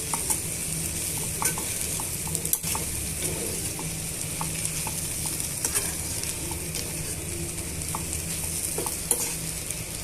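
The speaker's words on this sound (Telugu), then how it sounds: "ఇలా ఇంగువని వేసుకున్న తర్వాత ఇవన్నీ కూడా బాగా వేయించేసుకుందాము" Okra chutney ingredients fry with asafoetida in a hot pan, a steady close sizzle with occasional stirring clicks and scrapes running throughout, no voices.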